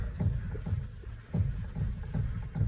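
A faint, rhythmic squeak from the steering rack of a Kia Rio 2 (JB) as the wheel is turned, repeating about every half second over low mechanical thumping.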